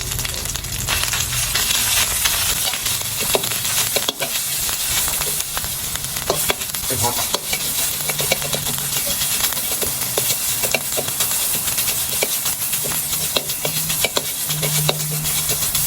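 Red curry paste sizzles and fries in a hot pan, a steady loud hiss with bursts of crackle and steam throughout, with no talking.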